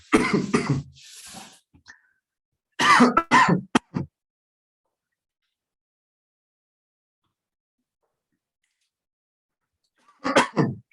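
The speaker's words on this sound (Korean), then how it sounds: "지금 감기가 있어서 잠깐 기침 좀 하고 올게요." Several harsh coughing fits, with throat clearing, break out in three separate bursts. Long stretches of silence fall between them.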